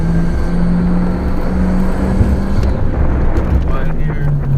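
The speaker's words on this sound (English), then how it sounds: "Just get some of those nice exhaust sounds." A Nissan Stagea RS Four S wagon rumbles steadily while driving through light traffic, giving a low, loud engine and exhaust drone with a faint rising pitch, heard from inside the car.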